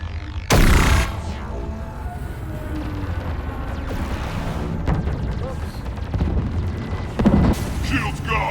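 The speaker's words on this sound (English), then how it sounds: "here comes the cannons." Heavy cannon blasts and explosions boom through a Mass Effect 3 space battle, a sharp deep blast at the start and another near the end, with rumbling combat noise and voices speaking in between.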